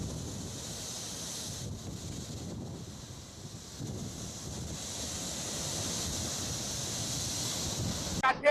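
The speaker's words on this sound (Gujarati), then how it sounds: "પીપાવાવ પોર્ટ સાથે જ ધારાબંદર સહિતના દરિયાકાંઠે ભારે પવન ફૂંકાઈ રહ્યું છે" Strong wind and surf on the coast near Jafarabad and Pipavav port in Gujarat under a monsoon storm warning, a steady roaring broadband wash of gusts and breaking waves heard continuously and fairly close.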